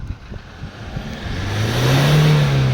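A 2014 Hyundai Grand Starex with a D4CB diesel engine, suffering low power and heavy black smoke, revs up toward 4,000 RPM, its drone climbing steadily in pitch and loudness, close and continuous.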